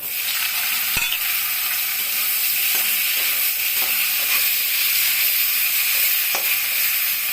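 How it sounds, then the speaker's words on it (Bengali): Eggplant fries in hot oil with a steady, bright sizzle and crackle, punctuated by a few sharp pops and light stirring clinks. "এখন আমি এই তেলের মধ্যে বেগুনটাকে ভাজবো"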